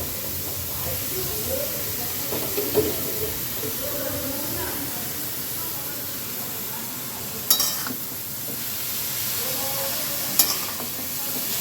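Grated carrots for carrot halwa sizzle steadily in hot ghee while a spoon stirs and scrapes the pan, a voice talking now and then over the frying.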